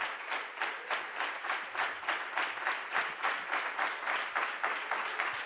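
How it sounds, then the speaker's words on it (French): A church congregation claps in unison, a steady rhythmic beat of many hands landing together roughly four times a second, moderately loud and sustained with a faint crowd murmur underneath. "That's a nice clap."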